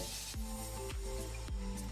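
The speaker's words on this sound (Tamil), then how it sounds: "அதோட நறுக்கி வச்ச ஆனியன் ஆட் பண்ணிங்க." Chopped onion and green chillies sizzle in hot oil for vegetable fried rice, a steady close hiss with faint periodic scraping or stirring strokes and a low hum underneath.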